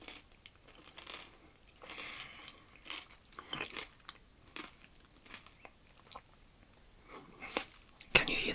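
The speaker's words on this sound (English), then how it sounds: "And the cornflakes are very crunchy indeed." Ritter Sport cornflakes chocolate is bitten and chewed close up, with scattered crisp crunches and irregular chewing bursts in quiet surroundings. One sharp, louder crunch comes near the end.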